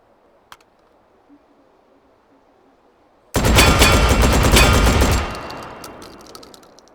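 After a near-silent lead-in with one small click, a loud, dense burst of rapid gunfire from the Scalpel-LE firing slug rounds in Hot Dogs, Horseshoes and Hand Grenades lasts about two seconds, then trails off into echoing decay.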